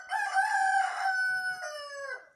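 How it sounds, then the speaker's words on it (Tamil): A single rooster crows a full cock-a-doodle-doo, close and loud, its harmonic call sweeping up, holding and then trailing off over about two seconds with no other sounds. "இப்போ இந்த சேவல் ஒன்று கோவியது"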